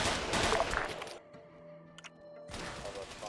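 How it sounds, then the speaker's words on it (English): Bursts of rapid gunfire in the video game Arma 3 crackle, cut off by a sudden near-silence, then the shooting resumes. "Gunshots up there."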